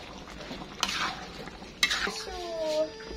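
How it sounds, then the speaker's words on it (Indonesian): Stir-fried vegetables (capcay) being stirred in a wok, with a couple of sharp metallic scrapes and clinks against the pan over a faint sizzle, and a brief high whistling tone near the end. "Sekarang kita aduk lagi."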